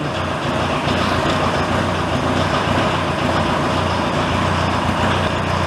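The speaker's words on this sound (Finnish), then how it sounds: "Taas hänen laturihiina luistaa, kun on noin pienet kierrokset olevin." A homemade mini loader's engine idles steadily with its alternator belt slipping at low revs, a continuous loud, rough mechanical drone that holds even throughout without pause or voices.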